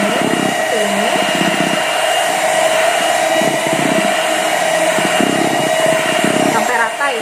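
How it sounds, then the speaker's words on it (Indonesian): An electric hand mixer runs steadily on its lowest speed, stirring flour into a chocolate cheese tape sponge cake batter, a continuous loud whir with a voice talking over it. "akan kita aduk di adonannya dengan kecepatan mixer yang pertama ya"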